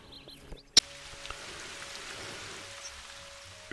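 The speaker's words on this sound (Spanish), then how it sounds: "se nos ha puesto a llover" Steady rain falls in theHunter Call of the Wild, a dense even patter of drops sustained throughout, with a couple of sharp clicks near the start and a brief knock at the very end.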